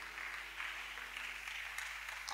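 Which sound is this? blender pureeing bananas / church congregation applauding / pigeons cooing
church congregation applauding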